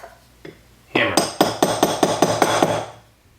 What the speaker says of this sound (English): Tighten it really securely because you're going to be hammering it.